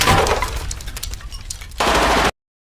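Rapid automatic gunfire rattles in a film action scene, a dense, loud volley of shots that eases briefly before a harsher burst and then cuts off abruptly to silence.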